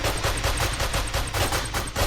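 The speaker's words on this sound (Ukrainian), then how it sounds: "Стріляйте у них, пацани!" Rapid automatic gunfire from a Minecraft zombie apocalypse game, a dense, continuous burst of loud shots repeating in a fast steady rhythm for about two seconds with no talk over it.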